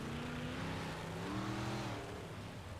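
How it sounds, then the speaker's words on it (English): Dirt-track race car at Kokomo Speedway refiring its engine after flipping and landing on its wheels, a loud, steady engine drone with rising and shifting pitch, mixed into continuous track and crowd noise. "He'll fire that car back off."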